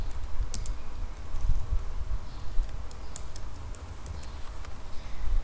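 Steady, rapid clicking of typing on a computer keyboard, close and continuous over a low background hum, with no speech.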